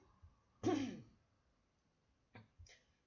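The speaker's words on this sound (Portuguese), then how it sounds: "eu tô com um pouquinho de tosse e tô aqui com um pigarro meio chato" A person clears their throat once, sharply and close, then gives two short dry coughs a moment apart, in a quiet room during a Portuguese language lesson.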